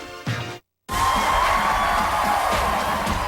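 Crowd waiting for a performance at an outdoor summer morning-show concert: a short burst of voices, a brief dropout, then loud, sustained cheering and whooping that fills the space.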